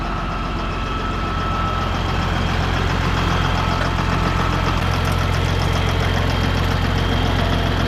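A 1994 Ford 3690 tractor rated at 200 horsepower idles nearby, a steady deep diesel rumble with a constant low throb and no voices.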